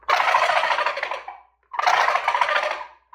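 Turkey gobbles imitated with a diaphragm gobbler call: two loud, close, rattling gobbles, each about a second and a half long, separated by a short pause, with no talk.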